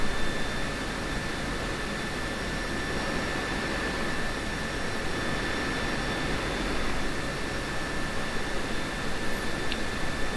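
An F-16C jet engine idles on the ramp in the DCS flight simulator, a constant loud roaring whoosh with a thin steady whine running through it, unchanging for the whole stretch and with no speech.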